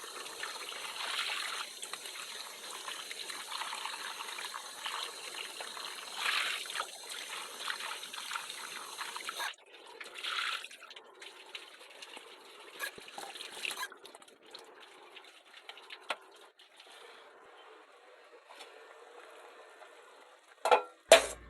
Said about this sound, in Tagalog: Hugasan na natin yung mga dahon ko ng sili para maihalo na doon sa tinola namin.